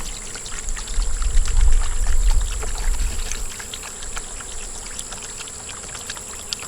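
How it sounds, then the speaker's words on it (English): Sugar water is poured into two large bee feeder bowls, a close liquid pour that swells to a fuller gush in the middle and then thins to a light trickle, over steady high insect-like buzzing. "We're going to fill them both up with sugar water because they need it."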